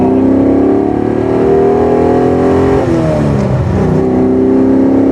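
A classic Maserati's engine revs hard and climbs in pitch, accelerating strongly with a loud, steady roar that shifts gear partway through.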